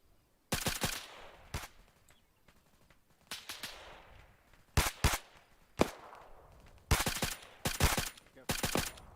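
Military simulation gunfire in Arma 3 rings out as sharp, close rifle shots and quick bursts in irregular clusters, separated by quieter gaps.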